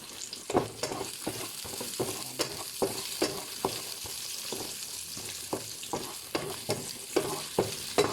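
Red onions sizzle steadily in a hot pan while a utensil stirs them, giving repeated close scraping knocks over a continuous frying hiss, with no talking.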